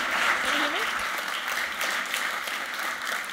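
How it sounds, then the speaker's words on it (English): A crowd at an Adobe creative event in the UK gives a sustained round of applause, a dense, even wash of clapping with a voice heard briefly at the start. "Please give a round of applause to Silvana Zybura, aka Madam Peripetie."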